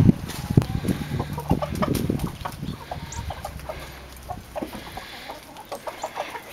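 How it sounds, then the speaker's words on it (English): A flock of backyard chickens and roosters clucking close by in a December garden, busy overlapping clucks and squawks that grow sparser and quieter midway through. "These are our chickens, most of them."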